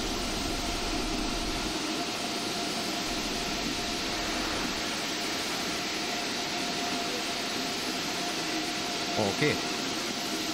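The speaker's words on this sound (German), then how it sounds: "Boah, es ist hier laut im Bahnhof." Train station ambience in Train Sim World 2022 on the Rheingold tour, a steady, loud mechanical hum and whir like idling locomotives and ventilation droning without pause, with a brief word spoken near the end.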